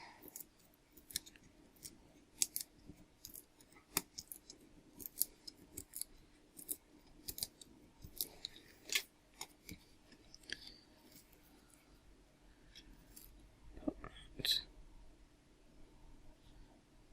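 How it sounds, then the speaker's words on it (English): Scissors trim a large paper image during a watercolour project, giving a long run of crisp, close snips and paper rustles at a quick, uneven rhythm with no talking. "So trim this down."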